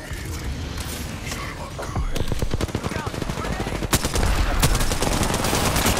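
Rapid automatic gunfire in the Apex Legends video game, with dense bursts of shots that grow heavier and more continuous toward the end, mixed with game sounds.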